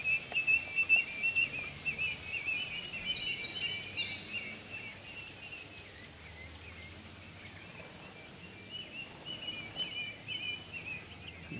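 Five-week-old northern bobwhite quail whistle back and forth outdoors, their clear calls fairly faint and scattered over a steady hiss, strongest in the opening seconds.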